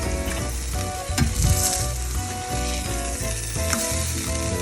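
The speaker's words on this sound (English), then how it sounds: "I think it's about time to flip these Smashburgers" Smashburgers frying on a flat griddle at Desperado Resort in Texas, with a steady close sizzle, a brief scraping clatter around the flip, and spatula and metal noises mixed in.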